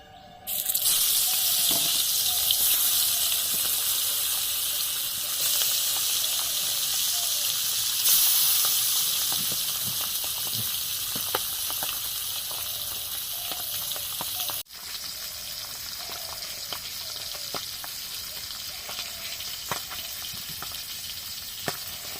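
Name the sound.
boal fish frying in hot oil, sizzling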